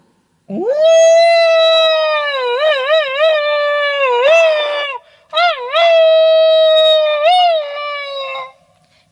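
A jackal in a Gujarati children's tale about a camel and a jackal howls loudly: long, drawn-out, wavering cries in two sustained phrases split by a brief pause, clear and close with nothing else heard.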